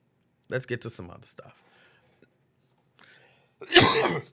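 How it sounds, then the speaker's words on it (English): Several short, harsh coughs and throat-clearing bursts near the start, a quiet pause, then one loud, forceful cough close to the mic. "And again, I'm coughing."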